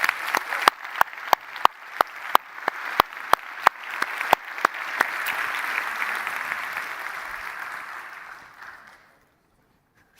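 An audience at a forum applauds student volunteers from Uppsala University. It starts with a few sharp, distinct claps, swells into dense, steady applause, then fades out to silence.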